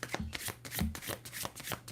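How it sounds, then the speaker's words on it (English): Oracle card deck being shuffled by hand, a run of soft papery riffles and flicks in quick irregular bursts, close and clear with no talking. "I might have to shuffle them the opposite direction because I'm literally stretching my palm to do this"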